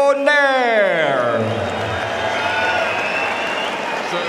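An arena crowd at a world bantamweight boxing bout applauds and cheers in a broad, sustained roar, starting under a ringside announcer's voice and continuing after it fades.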